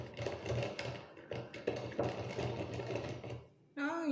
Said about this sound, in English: And you mix with the whisk.